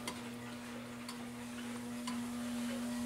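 A Sligh pendulum clock with weights and a pendulum bob ticks faintly and steadily against a quiet room hum, with no voices.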